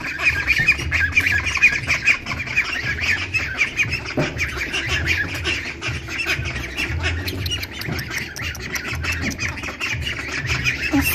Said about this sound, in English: And they're baby geese.